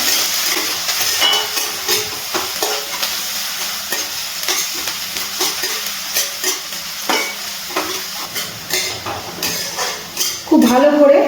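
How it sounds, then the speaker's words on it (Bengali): Chopped onion frying in garlic-flavoured oil in a pan, a loud busy sizzle broken by frequent rhythmic scraping and stirring strokes of a spatula against the metal pan, close up throughout. "এবার দিয়ে দিচ্ছি কেটে রাখা পেঁয়াজ। পেঁয়াজটা ভেজে নেব।"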